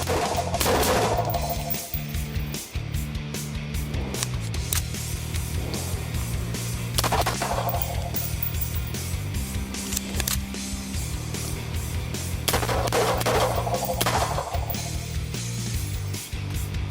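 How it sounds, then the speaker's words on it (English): Several sharp, loud suppressed gunshots go off indoors at irregular intervals, each a hard crack with a brief echo off the room. "Boy, that is a gassy suppressor."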